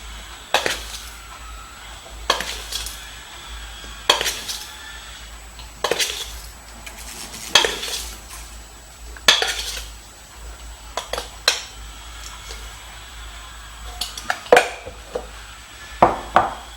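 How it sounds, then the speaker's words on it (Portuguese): A small child stirs cake batter in a bowl with a big spoon, producing a steady series of sharp clinks and scrapes roughly every second or two, close and clear, with no talking. "Pega uma colher aqui e mexe."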